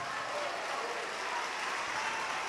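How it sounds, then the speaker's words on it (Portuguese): Faint, distant applause from a church congregation in Salvador, Bahia, a steady even wash of clapping with no distinct claps standing out. "vamos dar a melhor salva de palmas que já se ouviu em Salvador,"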